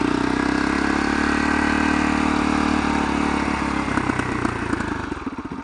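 A 2004 dirt bike with under 9,000 miles runs loud and close, a steady rough idle that turns into uneven throttle pulses and then eases down toward the end.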